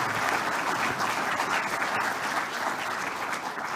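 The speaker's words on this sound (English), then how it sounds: "Another big round of applause for them." A large audience claps steadily at the Queensland Australian of the Year Awards ceremony, a dense, sustained wash of applause at full volume throughout with no speech over it.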